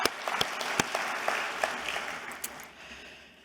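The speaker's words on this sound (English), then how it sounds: "You should give yourselves a round of applause." Conference audience at a national aged care provider event applauding in a plenary hall; scattered distinct claps over a wash of clapping that gradually fades toward the end, moderately distant.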